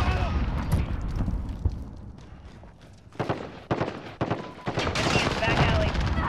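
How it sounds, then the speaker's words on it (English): Modern Warfare video game combat: bursts of automatic gunfire and sharp blasts that rise toward a dense, loud barrage near the end, including a grenade detonation. "Grenade out!"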